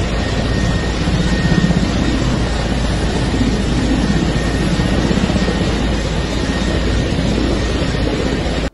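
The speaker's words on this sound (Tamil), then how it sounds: "இது ஒரு இராணுவ ஹெலிகாப்டர்." A military helicopter flies overhead with a dense, steady rotor and engine roar that stays loud and unbroken for several seconds, with no speech.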